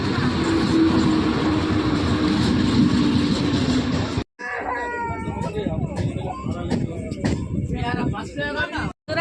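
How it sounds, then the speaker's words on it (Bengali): A train rumbles loudly and steadily as it pulls into a station, then after a brief cut, a busy platform with voices, horn-like tones and clatter takes over. "ট্রেন ঢুকে গেছে"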